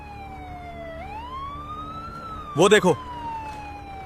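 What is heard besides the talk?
ambulance siren approaching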